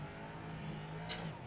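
A steady LMP3 racing-car engine drone in rFactor 2 at Daytona, with a brief higher whine rising and fading midway as GT3 cars speed past at a distance.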